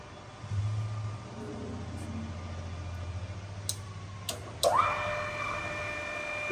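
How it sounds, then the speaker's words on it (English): An HMT RM 63 radial arm drill machine runs with its spindle turning at around 160 rpm, giving a steady low mechanical hum with a brief louder whir near the end. No one speaks. "The spindle speed has been increased to 160 rotations per minute."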